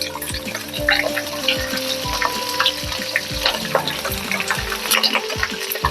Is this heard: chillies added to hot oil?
yes